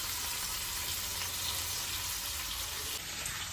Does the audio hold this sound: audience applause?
no